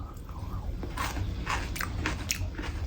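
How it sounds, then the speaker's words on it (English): Crisp bites into crunchy fermented bell pepper from vegan baek kimchi, several close, wet crunches and chewing sounds in steady succession with no talking. "Let's try some of the bell pepper."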